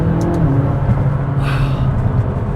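McLaren 570S downshifting into second gear heard from inside the cabin, a deep continuous engine rumble with a short rising burst midway and no voices over it.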